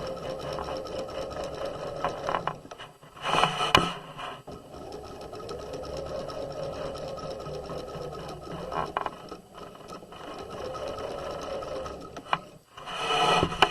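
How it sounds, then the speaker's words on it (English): Sewing machine stitching a curved crotch seam on fabric pajama pants, a steady close motor whir with rattling needle action that pauses briefly a few times as the fabric is turned, no talking. "we're going to stitch around the curve, and so we're very carefully going to turn the fabric as we're stitching"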